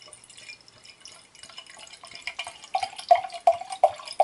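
Homemade parsnip wine, an uncarbonated country wine, pours into a glass with a soft trickle that builds into gurgling, bubbly splashes toward the end, close and fairly quiet.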